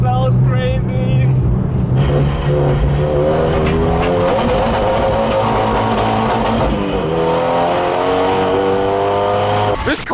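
A street-legal BMW E92 roars loudly and revs up and down through gear changes on the Nürburgring, the pitch rising and falling steadily as it speeds along, heard from inside.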